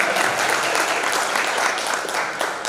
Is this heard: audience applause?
yes